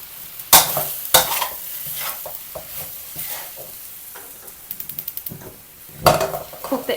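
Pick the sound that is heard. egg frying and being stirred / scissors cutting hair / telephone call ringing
egg frying and being stirred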